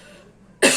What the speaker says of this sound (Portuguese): do nada me deu tosse.